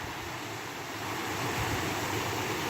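Continuous rushing water of a small creek on a forest hike, a steady broadband flow with no voices, fairly faint and even throughout.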